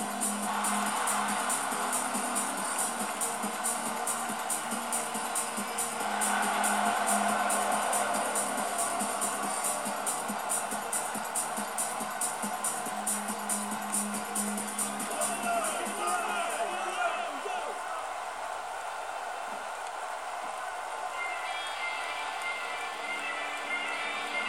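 A WWE 2K16 arena crowd roars steadily for a wrestler's ring entrance, with Sebastian the Bull from Germany approaching, a broad, sustained wash of noise running under an announcer's voice and entrance music.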